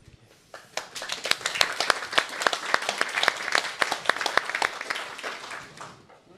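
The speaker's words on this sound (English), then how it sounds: "So we clapped, we gave our hands because he's right." Audience applause at a panel side event of the Munich Security Conference 2025 on NATO's eastern flank, a steady mid-sized round of clapping with distinct individual claps, rising and then fading out after about six seconds.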